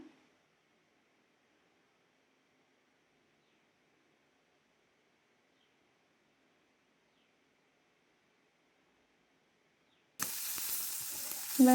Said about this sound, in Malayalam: വെളിച്ചെണ്ണ ചൂടായി വന്നിട്ടുണ്ട്. ഇനി അതിലേക്ക് മീൻ ഇട്ട് കൊടുക്കാം.